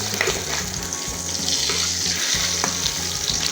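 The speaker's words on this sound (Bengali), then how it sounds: "দুটো কাঁচামরিচ আর তেজপাতা দুটো ফোড়ন দিয়েছি" Green chillies and bay leaves sizzle in hot oil during the tempering for an egg-poach and eggplant dish, a dense continuous crackling hiss with bubbling, close and fairly loud, with no voices.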